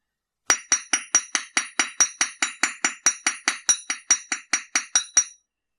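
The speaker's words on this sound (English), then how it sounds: "hammer the rest of the frame to work harden it." A hammer strikes a wire pendant frame on a metal surface about twenty times in a steady rhythm, each bright, ringing tap close and distinct against silence, work-hardening the wire.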